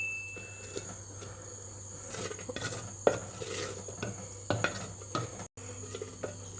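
Medicinal Karkidaka kanji is stirred in a pot, with a spoon scraping and knocking against the metal in irregular close strokes over a faint steady background hum and insect chirps.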